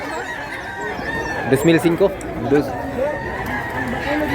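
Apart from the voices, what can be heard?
roosters crowing and clucking at market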